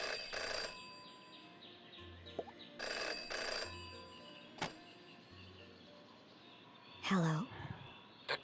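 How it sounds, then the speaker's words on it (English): A telephone rings inside the video game Jenny LeClue, sounding in several short, bright bursts with pauses between them, fairly close and clear, followed by a brief sweeping electronic tone. "Jenny had learned never to ignore a ringing phone"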